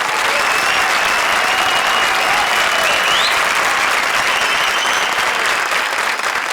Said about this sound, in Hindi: हमारी चारों शायराना जोड़ियों के लिए एक बार जोरदार तालियां।